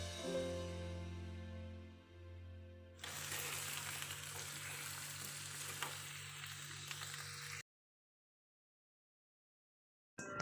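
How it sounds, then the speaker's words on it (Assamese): Olives fry in hot oil with three bay leaves for pickle, giving a dense, close, crackling sizzle that starts suddenly after a tonal intro, runs steadily for several seconds, then cuts to silence. "তেলখিনি একদম উতলিব দিছোঁ আৰু তাত 3 খিলা তেজপাত দিছোঁ আৰু তাৰপিছত মই জলফাইখিনি তাত দি দিম"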